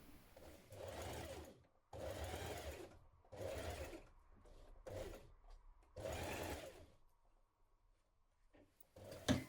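A sewing machine runs in four or five steady bursts, each a couple of seconds long with short pauses between, stitching the shoulder seam of a winter coat. The sound is close and moderately quiet, with no talking.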